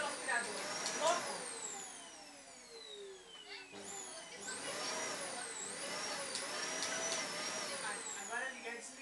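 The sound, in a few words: vacuum cleaner running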